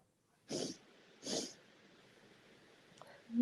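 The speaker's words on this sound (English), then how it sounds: "The sniffles." Sniffling from a person with the sniffles, two distinct sharp nasal inhales about a second apart, fairly close and quiet, followed by a faint click and low background.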